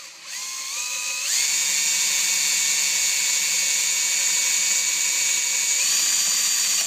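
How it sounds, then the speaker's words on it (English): A power drill whines at a steady high pitch while drilling a hole in a Victa push mower, rising in speed after a second and holding a continuous strained tone. "don't push too hard whilst you're drilling"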